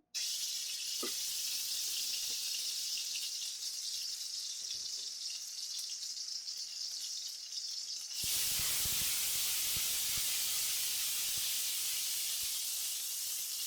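Ginger garlic paste frying in about two tablespoons of hot oil in a kadai, a steady loud hiss and sizzle that surges louder and brighter partway through, with no talking.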